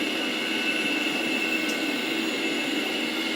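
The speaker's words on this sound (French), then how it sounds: "J'ai mon premier moteur qui est lancé." A twin-engine military jet's engine spools up during start-up, a steady loud roar with a high, constant turbine whine layered over broadband rushing noise.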